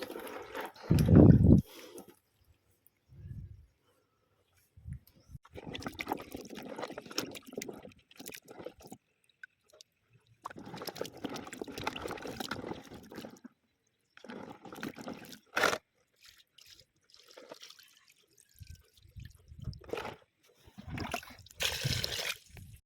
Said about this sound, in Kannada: ಸ್ವಲ್ಪನೂ ಮಣ್ಣಿಲ್ದಿರೋ ಥರ ಎಲ್ಲ ನೀಟಾಗಿ ತೊಳ್ಕೊಂಡು ಬಂದಿದ್ದೀನಿ